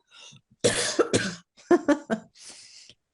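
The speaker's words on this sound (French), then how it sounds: "ça me fait tousser" Several harsh coughs in quick bursts, close and fairly loud, with a short pause between groups and a softer throaty rasp at the end.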